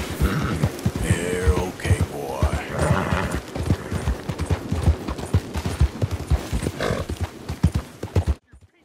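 Hooves of a wild Bay Mustang in Red Dead Redemption 2 beat out a quick, steady clip-clop, close and crisp, with a short whinny early on, before the sound cuts to silence.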